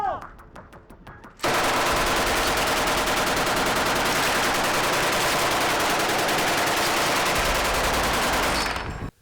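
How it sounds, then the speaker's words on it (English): A real mass-produced open-bolt military machine gun fires one long, loud, unbroken automatic burst lasting several seconds, with rapid evenly spaced shots before it cuts off abruptly. "this was a real, mass-produced military machine gun doing exactly what it was designed to do"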